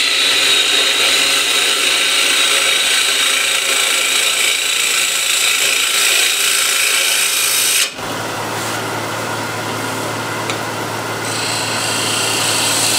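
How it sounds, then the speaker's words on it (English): A ball gouge cuts into a wooden bowl on the lathe, producing a steady, loud, hissing whir that shifts abruptly in tone partway through, with no speech. "I'm using a ball gouge here to get this nice shape."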